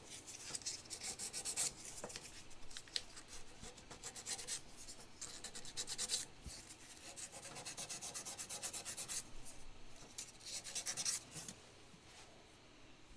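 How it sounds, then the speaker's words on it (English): A 400 grit fret eraser rubs back and forth over guitar frets during a vintage Hohner Shark fin restoration, giving soft, steady scratchy strokes close by with short pauses, no voices. "There's the 400 grit fret eraser."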